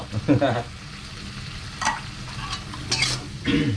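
Pork being stir-fried with fingerroot for a crispy pork and bean curry-paste dish, a spatula scraping and clattering against the pan in a few uneven bursts over a low, steady sizzle.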